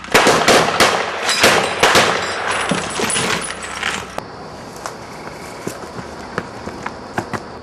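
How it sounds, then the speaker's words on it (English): Rapid bursts of loud video game gunfire crackle for several seconds, then trail off into scattered single shots against a noisy background. "I heard gunfire."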